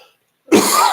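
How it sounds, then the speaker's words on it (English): A single loud throat-clearing cough close to the mic, starting abruptly after half a second of silence and ending in a short second rasp. "Let me clear my throat."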